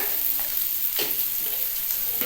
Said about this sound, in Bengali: এটা একটু তেলের মধ্যে ভালো করে নেড়ে ফেড়ে নিতে হবে